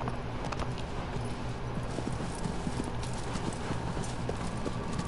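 Horse hooves clip-clopping in Shadow of the Colossus, a steady rhythmic trot of hoofbeats over a constant background rumble, with no talking.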